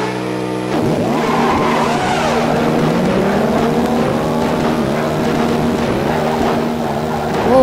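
Turbocharged race car engine revving hard, a loud close roar with rising and falling pitch sweeps as it accelerates and the wheels spin, sustained for several seconds without talk.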